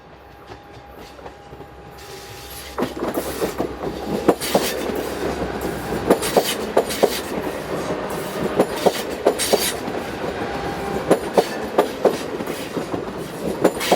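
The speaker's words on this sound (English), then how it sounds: "This Class 681 Pendolino passes through the station with a service from Prague." A Class 681 Pendolino train runs through a station on a service from Prague, swelling from a low rumble into a loud, close rush with rapid, rhythmic clickety-clack of wheels over rail joints and no voices.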